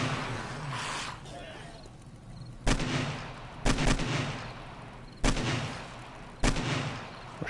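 Video-game gunfire in Vertices aimed at a giant spider, four sharp, loud shots spaced about a second apart, each trailing a rumbling decay, over a background of creature and ambient noise, with faint talk.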